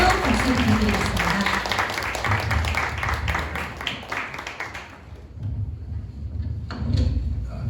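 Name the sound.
audience applause at company meeting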